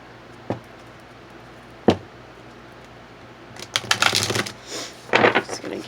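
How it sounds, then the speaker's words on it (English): Two isolated soft taps, then a flurry of riffling, papery shuffling of tarot cards that comes in bursts, close up with no talking. "Give another shuffle here."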